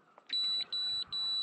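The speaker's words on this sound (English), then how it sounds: "an alarm going off on my sounder" Fish finder sounder alarm on a kayak at sea: three long, high-pitched electronic beeps in a steady repeating pattern, close and clear over faint water background.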